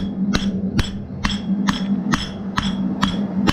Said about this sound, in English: I'm going to start the hammering down process